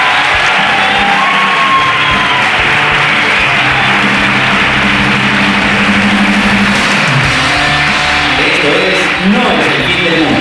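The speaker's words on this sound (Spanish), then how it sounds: "un aplauso que se os oiga" A live studio audience of about 500 people applauds and cheers, a loud, dense wash of clapping and whoops that holds steady throughout.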